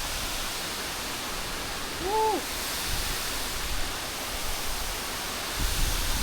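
A hidden waterfall in the mountains of Albania gives off a constant broad rushing roar. A person briefly lets out a hooting whoop partway through.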